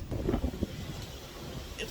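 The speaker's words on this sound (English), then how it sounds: "I'll come out to the balcony, but it's pretty windy." Gusty wind buffets the microphone in low rumbling bursts on a cruise ship balcony at sea, with a faint hiss of sea and air in the background.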